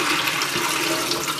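Dirty water gushes steadily out of an upturned Bissell rug and carpet cleaner tank, a continuous loud splashing pour that stays even throughout with no talk.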